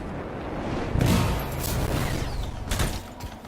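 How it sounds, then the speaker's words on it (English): A contained explosion in the sci-fi action game Anthem, heard as a loud, sudden booming burst, followed by rumbling debris and a second blast shortly after, with no speech. "It'll be a contained explosion."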